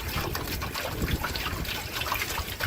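Maple sap being poured slowly into a container outdoors in the bush, a close, steady liquid trickle with small splashes, alone without talk.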